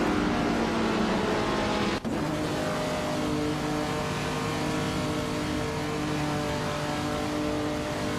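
Race cars roar through a racing video game, a steady dense engine drone with layered revving that holds loud and constant throughout, broken only by a brief dip near the start.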